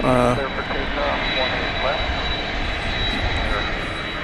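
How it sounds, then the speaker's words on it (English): An American Airlines Airbus A321 jet airliner on approach to land at DFW Airport gives a steady, moderately distant engine roar with a thin high whine, while people talk over it. "As we watch a American Airlines flight, Airbus A321 coming in from Cancun there in the foreground"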